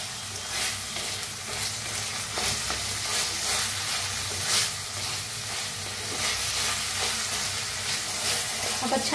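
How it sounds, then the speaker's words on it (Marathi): Chopped tomatoes and onion with coriander sizzle and fry in a pan, steady, close crackling and hissing, with occasional stirring scrapes throughout. "ह्याला बी टमाटोला बी मिक्स करून कांद्यासंग भाजून घेऊया"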